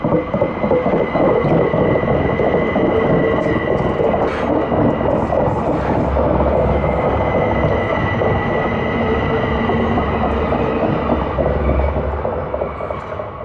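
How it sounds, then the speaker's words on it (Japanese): A Zürich S10 suburban electric train climbs a steep 79 per mille grade, heard up close as a loud, steady rumble of motors and wheels with faint squeals and clicks, fading slightly at the end. "最急勾配区間を上る列車をご覧いただきます。"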